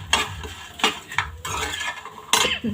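Red chilli powder and coriander powder being stirred into a pan of potato fry, a spoon scraping in several separate strokes against the pan, close and clear, with no talking.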